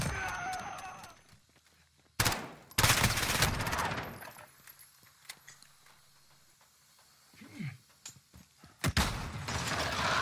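Gunfire in the video game Modern Warfare: two loud bursts of shots, a sharp volley early on and another near the end, with quieter clicks and game noise between them.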